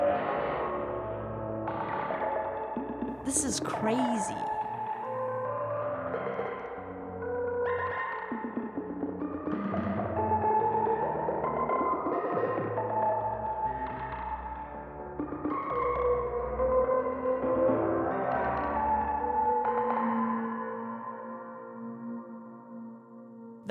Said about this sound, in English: What you're hearing right now is only Magneto and the delays that remain from our sequence